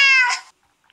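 A cat meows in the video game Minecraft, one clear, loud, drawn-out call that breaks off partway, then a brief pause before another short meow begins at the very end.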